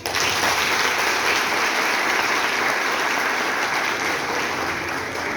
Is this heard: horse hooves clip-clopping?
no